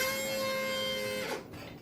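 A Breville Barista coffee machine grinder with a fault runs with a steady tonal whine and buzz, then cuts off abruptly near the end, leaving quieter background noise.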